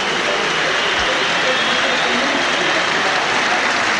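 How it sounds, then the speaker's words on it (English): A large stadium crowd at a 1992 South Africa versus Australia rugby test in Cape Town applauds and roars in a continuous, loud, distant-sounding wash of noise. "Carozza getting a second round of applause"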